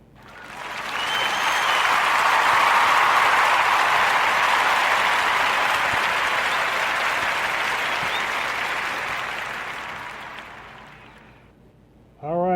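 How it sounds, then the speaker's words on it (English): Full crowd applause for graduates, a thick steady roar of many hands clapping that builds fast, holds, then gradually dies away before a voice begins speaking at the very end. "we're going to extend a warm narrative podcast round of applause for our sister Ashley and Tiana for graduating cum laude"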